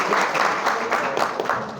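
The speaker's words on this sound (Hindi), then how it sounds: "जोरदार ताली बजाकर आप सब" Party workers at a political gathering in Madhya Pradesh break into loud, sustained applause, a dense burst of many clapping hands close by.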